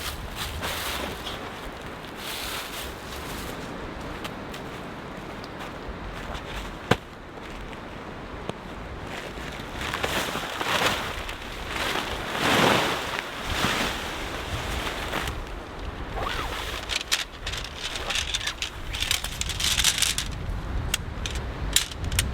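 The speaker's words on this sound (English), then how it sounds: "let's get out of this wind" Strong gusting wind sweeps through a snowstorm at a winter campsite, roaring broadband and rising into louder blasts toward the middle and end, with a brief sharp click early on and no talking.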